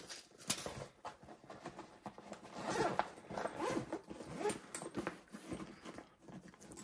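Zipper on a SwissGear 1900 backpack being worked along a mesh pocket, a close, continuous ragged rasp with irregular tugs and pulls over several seconds, with no voices.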